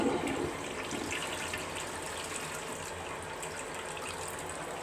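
A slow, weak toilet flush in an upstairs bathroom, water steadily gushing and draining without building enough force, a broad continuous wash of sound at moderate level with no voices.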